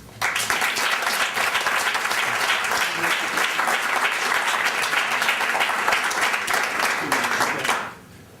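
Loud, sustained audience applause at a speaking event fills the clip with dense clapping, holding steady for several seconds before cutting off abruptly near the end.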